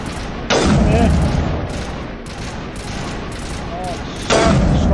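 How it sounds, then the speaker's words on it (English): Sniper rifle fire in Mass Effect, two heavy booming shots at the start and end over a constant loud backdrop of combat noise and rumble. "Oh, Sam, sniper rifle."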